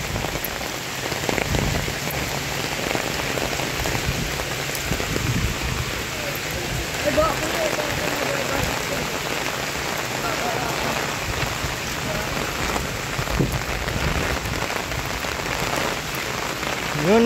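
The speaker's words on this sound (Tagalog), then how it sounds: "Yan, ang lakas ang ulan." Heavy storm rain pours outdoors over a flooded house, a loud continuous roar of drops hitting surfaces, steady throughout with occasional louder spatters.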